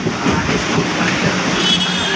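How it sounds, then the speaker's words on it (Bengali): A galloping express train rushes past without stopping at a station, a loud, steady rumble of rolling wheels and rattling carriages sustained throughout, with no talk. "ওটা গ্যালোপিন ট্রেন ছিল"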